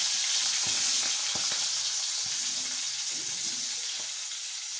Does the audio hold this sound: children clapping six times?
no